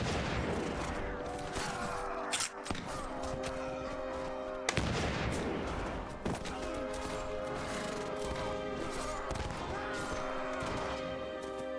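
Musket gunfire in a modded Mount and Blade battle: repeated sharp shots and heavy booms crack over a constant dense din of combat, with several loud reports standing out.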